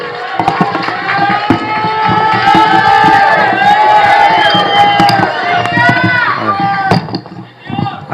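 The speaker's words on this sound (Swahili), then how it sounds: "Tumpigie makofi bwana Kimathi tafadhali" A crowd at a Meru County industrial park launch event cheers and claps loudly and continuously, with shouts mixed in, close and full before fading toward the end.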